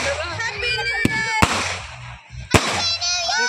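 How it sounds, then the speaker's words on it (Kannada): Firecrackers burst during a family New Year celebration, three sharp loud bangs spaced apart over a background of music and voices. "ಪ್ರತಿಯೊಬ್ಬರು ಕೂಡ ಪಟಾಕಿ ಹೊಡಿಬೇಕಾದ್ರೆ ಹುಷಾರಾಗಿ ಹೊಡಿಬೇಕು."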